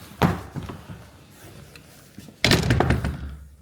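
A heavy door in a thirteenth-century church swings shut with a solid thud, followed by a louder booming slam and echoing rattle in the stone interior.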